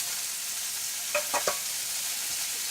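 Mushrooms sizzle in a pan, a steady frying hiss throughout, broken by a few brief scraping stirs near the middle.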